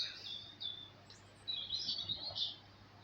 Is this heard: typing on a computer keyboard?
no